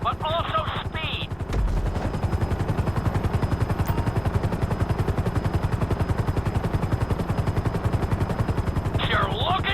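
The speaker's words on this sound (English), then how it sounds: "we'll see how well you handle the chopper" Helicopter flying a marked course in Grand Theft Auto V, a steady fast rotor chop pulsing loud and continuous for most of the stretch, with brief game sounds at the start and end.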